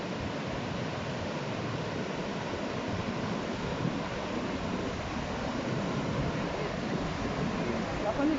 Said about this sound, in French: Les vagues et tout, elles sont pas comme hier.